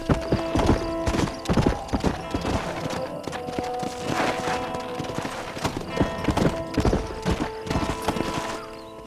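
Horse hooves clip-clop in a steady galloping rhythm in the Red Dead Redemption video game, loud and close, with an occasional whinny over a busy game soundscape.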